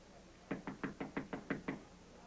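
Seven evenly spaced knocks on a door, firm and close, in a quick steady rhythm over a quiet background in an old film scene.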